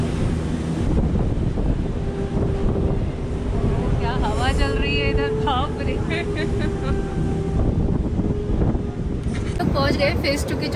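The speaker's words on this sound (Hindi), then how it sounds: "बहुत ठंडी ठंडी हवा चल रही है यहाँ पे" Cold wind blows across the Gulmarg Gondola phase 2 summit, a constant loud rush buffeting the microphone as someone talks over it.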